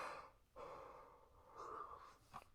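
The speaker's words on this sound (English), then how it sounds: "I'm going to yawn again." A tired man's drawn-out yawn, breathy and rising, runs alone for a couple of seconds and ends in a short exhale.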